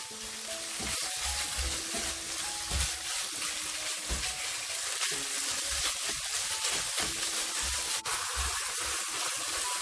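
Minced pork sizzles and crackles steadily in a hot wok as it is stir-fried with chili bean paste, a loud continuous frying hiss broken by the scrape and clatter of stirring, with no voices.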